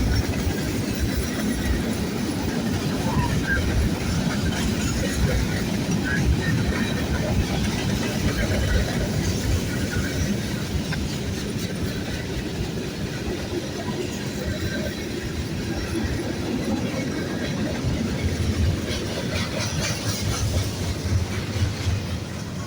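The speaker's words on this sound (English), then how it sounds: "This is what I call a freight train." A long freight train rumbles past close by at a train day event in Ashland, steady roar with faint rhythmic clatter of wheels, and a person speaks occasionally.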